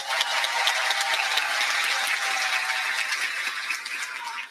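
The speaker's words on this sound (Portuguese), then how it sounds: "Podemos aplaudi-lo, queridos?" A crowd applauds a pastor at a gathering of Brazilians in Florida: dense, sustained clapping, loud and even throughout, fading slightly at the end.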